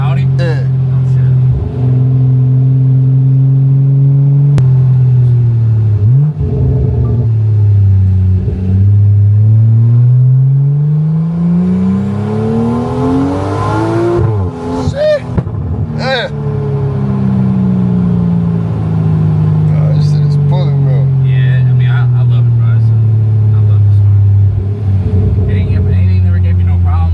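From inside a single-turbo BMW M340, the engine pulls hard, its tone rising steadily to a peak before a shift drops it back down. Road and cabin noise run underneath, with voices now and then.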